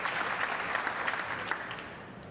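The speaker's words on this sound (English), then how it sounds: "Now clapping every shot here." Spectators clapping after a shot at a professional nine-ball pool match at a world championship, a steady crowd applause heard throughout at moderate level, with no talk over it.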